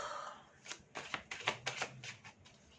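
Tarot cards are laid down and covered on a table in a quiet room, giving a series of about eight soft, crisp card slaps and shuffles spaced irregularly over a few seconds.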